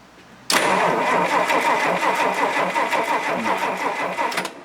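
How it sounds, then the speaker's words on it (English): A Rolls-Royce Silver Cloud engine cranks steadily on its starter without catching, a rhythmic, close, loud churning that begins abruptly and runs uninterrupted to the end. "So go ahead, Willie, crank it. Still no spark"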